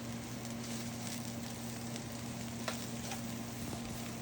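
Garlic sizzles and fries steadily in a pan alongside eggplant and tofu, a faint continuous crackle with a low steady hum beneath.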